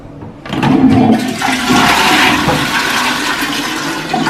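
A bidet flushing in an Airbnb bathroom in Rome, a loud close rush of water that kicks in abruptly and keeps pouring steadily for several seconds.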